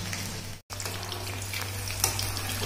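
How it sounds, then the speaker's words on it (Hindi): Corn kernels frying in hot oil in a home kitchen, a dense, even crackling sizzle that carries on steadily with a split-second gap near the start, close and moderately quiet. "अभी हमारा तेल गरम हो गया है, इसमें हम अपने कॉर्न फ्राई कर लेंगे।"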